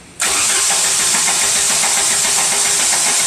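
A Jeep engine cranks steadily with a continuous rhythmic churn, loud and close for about three seconds, while a compression test is run on a sputtering engine.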